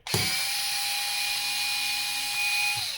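A GTM SD 3.6 cordless screwdriver unscrews a fastener, a steady high-pitched electric motor whine that starts abruptly and runs close and loud for about three seconds before winding down.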